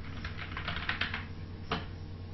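Typing on a computer keyboard while entering a job name in structural design software: a quick run of soft, closely spaced key clicks, with one sharper keystroke burst near the end.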